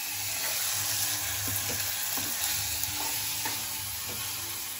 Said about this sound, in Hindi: पिताजी ने यहाँ पर तड़का लगाना भी स्टार्ट कर दिया दाल को